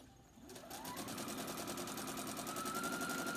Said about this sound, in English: Now I'm going to go ahead and sew from this side because I've got these two seams.